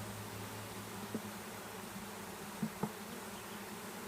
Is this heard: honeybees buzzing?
yes